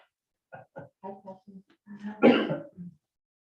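Several short, dry coughs in a row, ending in a louder, harsher hacking burst close to the mic, then one last small cough.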